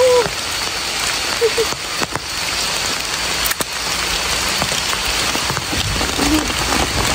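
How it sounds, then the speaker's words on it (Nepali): Steady rain falls outdoors along a path while walking uphill in a Nepali municipality, a continuous hiss of drops throughout with occasional brief pops and faint voices in the background. "पानी पर्यो"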